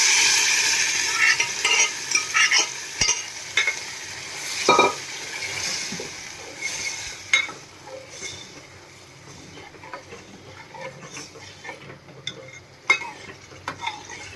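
Lentils sizzle with frying spices in a pan while a spoon scrapes and stirs, with irregular clinks and knocks against the metal and no talking.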